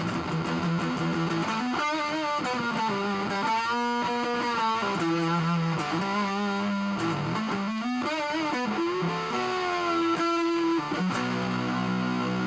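A Washburn Dime 332 electric guitar through a Rat distortion pedal at full plays a riff of sustained, buzzing notes and bends, loud and saturated throughout.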